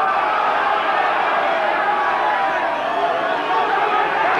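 A rugby crowd at The Gnoll during the Ospreys versus Scarlets Boxing Day match roars and shouts in a dense, continuous wash of many voices, steady and loud throughout.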